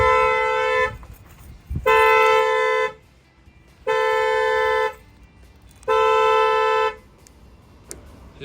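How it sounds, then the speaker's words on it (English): The factory alarm on a 2020 Kia Sportage sounds its horn in four long, loud blasts of about a second each, evenly spaced with short quiet gaps, close by and without talk. "You're gonna see that the alarm's gonna trip this time."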